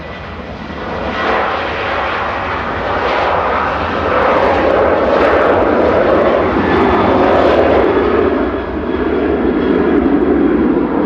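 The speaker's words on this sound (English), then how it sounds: "Flight 2400 heading off to the Greek island of Rhodes. Now that's GFD-ZD departing, a 17-year-old 737-800." A 17-year-old Boeing 737-800 jet departs Manchester Airport for Rhodes, a loud sustained engine roar that builds and stays strong for about eleven seconds with no talk.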